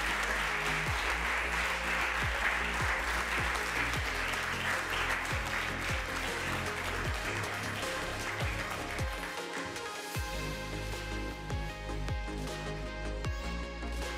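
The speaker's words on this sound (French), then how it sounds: "Et je vous demande de l'applaudir." An audience at a Paris book-prize ceremony applauds the Galignani bookshop's winner, steady dense clapping sustained throughout with a faint low hum underneath.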